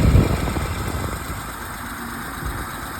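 A 2011–2013 BMW X5 35i engine idles after a serpentine belt and idler pulley replacement, a steady close mechanical hum with a brief louder rev at the start, then settling into an even idle.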